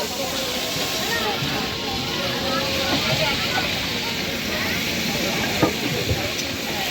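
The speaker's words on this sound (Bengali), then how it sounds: "লবণ দিয়ে ভাজছে" Crab frying with salt in a pan, giving a steady, close sizzling hiss with scattered crackles that runs the whole time, with faint voices in the background.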